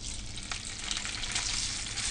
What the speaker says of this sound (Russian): В сковороду вливаем подсолнечное масло, даем ему нагреться и отправляем туда сосиски.